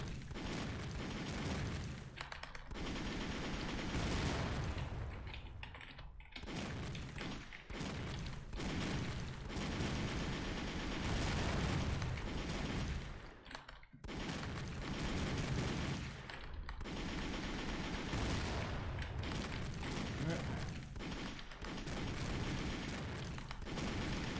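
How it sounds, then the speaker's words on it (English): Missiles launch and detonate in Dark Messiah, a dense, loud barrage of booms and thuds that runs almost continuously, with brief lulls between waves of explosions. "Freaking missiles."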